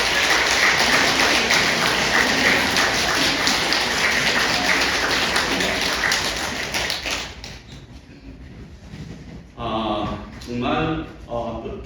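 A church congregation at a revival meeting applauds in a dense, loud wave of clapping that lasts several seconds and then fades, followed by someone speaking.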